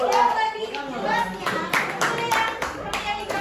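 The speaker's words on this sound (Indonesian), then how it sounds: "Kasih tepuk tangan untuk Usah" Children clap their hands for a classmate, a student named Usah, in a school classroom: a lively run of quick, close, uneven claps lasting a few seconds, with some children's voices mixed in.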